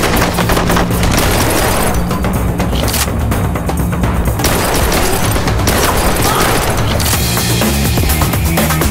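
Dense, continuous gunfire from the video game Blue Estate, rapid overlapping shots and booms filling the whole stretch at a steady, loud level, with faint voice fragments buried in the mix.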